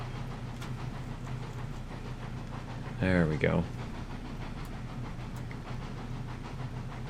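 Train cars roll along the track in the Railroads Online game, a steady low rumble running throughout while someone speaks briefly partway through.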